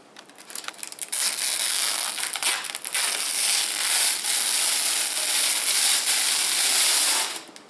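Protective plastic film peels off a PC case in one long crackling rip, a steady sticky tearing noise that starts with a few pops and runs close and loud for several seconds.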